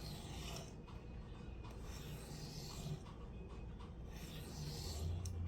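A Byrd Meadowlark 2 knife blade is sharpened freehand on an Atoma 140 diamond plate, giving a steady, close gritty rasping that runs continuously in quiet strokes with no talking.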